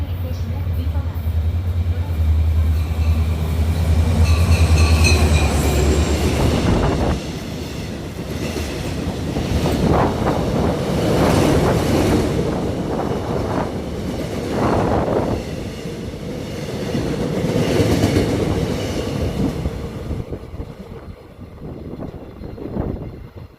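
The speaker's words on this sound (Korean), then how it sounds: "차량곳 6번으로 들어오는 열차는 우리 역을 통과하는 열차입니다" A freight train hauled by a diesel locomotive passes through Pyeongtaek station on the Gyeongbu Line. A loud rumble is followed by a long run of wheel clatter and rattling cars, then it fades at the end as the train clears.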